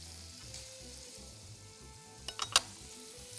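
Sausage and meat frying in a pan for an Egyptian baladi sausage dish, a steady close sizzle with a few sharp pops and crackles near the end, no talking.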